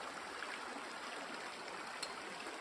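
Mountain stream in the Bieszczady mountains, fresh water flowing in a steady, even rush with a soft continuous hiss, close by and heard alone without voices.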